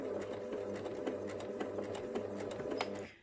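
A domestic sewing machine runs steadily through reverse stitches at the end of a side seam on a fabric bunny, a close, continuous rapid mechanical whir and clatter that stops abruptly at the end.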